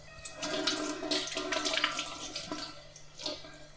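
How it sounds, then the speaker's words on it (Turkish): Tap water runs steadily over bulgur being rinsed in a kitchen, a close, continuous rushing splash with slight surges and no talking. "Şimdi bir kez de temiz suyla yıkayalım."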